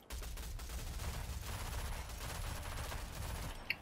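Continuous rapid gunfire in the Rogue Company video game, a dense, steady roar of fast shots lasting several seconds at moderate loudness with a brief sharp bang near the end.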